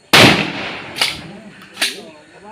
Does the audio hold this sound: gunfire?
yes